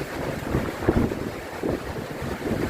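Strong wind from Typhoon Karding in the Philippines buffets the microphone in steady, rumbling gusts, with a low roar that swells and eases throughout.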